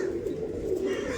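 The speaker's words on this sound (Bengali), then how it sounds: "মানে এগুলো চেন্নাই ব্রিডের পায়রা।" Chennai breed pigeons give a short, close, throaty coo, a low rolling call that lasts about a second.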